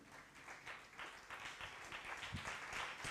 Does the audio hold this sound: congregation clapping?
yes